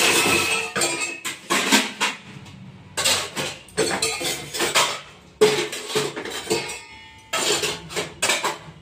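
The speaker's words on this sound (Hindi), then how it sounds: "अब बर्तन उर्तन धोने के बाद फिर हम देखिए टोकरी में रख रहे हैं सारा बर्तन" Freshly washed dishes are stacked into a basket in a home kitchen, with repeated close metallic clatters and clinks coming in uneven bursts with short pauses.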